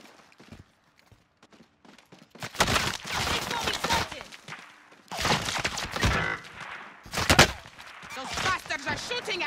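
Gunfire in Call of Duty Warzone: after a quiet start with a few faint clicks, loud bursts of rapid shots and crackling blasts come in waves, with a sharp close volley near the end.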